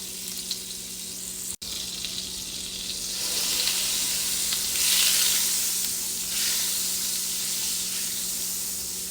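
Butter and canola oil sizzle in a hot pan, a steady close hiss that swells louder partway through, with a brief click early on and no talk over it.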